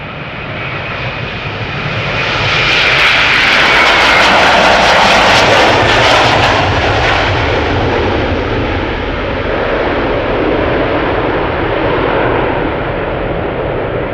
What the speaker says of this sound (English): Going to Miami is KLM flight 627, A330-300, 9 years old, first flight October 2014.